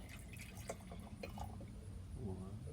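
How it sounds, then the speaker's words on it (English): Acetic acid poured gently into a container for a colour-change chemistry experiment, a faint, soft trickle and drip of liquid with low background rumble, no speech. "why don't you take the acetic acid from the last experiment and gently pour it in here"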